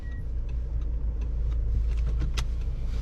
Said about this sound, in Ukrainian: Далі можуть попросити запаркувати автомобіль паралельно.